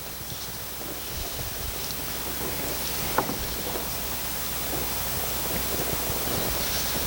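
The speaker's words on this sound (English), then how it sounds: "It's a windy day." Wind blowing outdoors beside a grill on a windy day, a steady, loud broadband rush buffeting the microphone throughout, with no voices.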